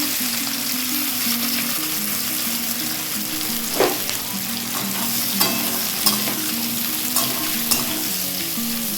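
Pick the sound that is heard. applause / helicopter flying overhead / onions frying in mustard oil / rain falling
onions frying in mustard oil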